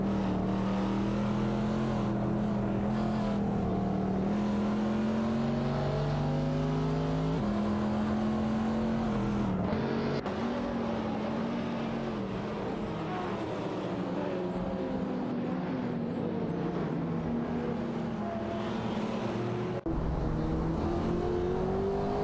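Race cars, including a Chevrolet Corvette, battle in a simulated AI race, engines whining continuously with pitch climbing and dropping through gear changes, a dense unbroken roar of several cars together.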